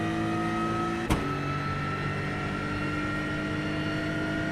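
Turbocharged race car engine in iRacing droning steadily on boost, a sustained harmonic whine with one sharp brief transient about a second in, loud and constant with no talk.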